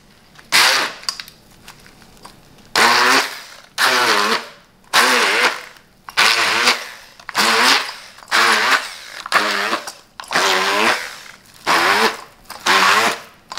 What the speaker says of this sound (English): going in with this inversion blender, because it just hits the spot, you know. So I'm gonna start blending with this.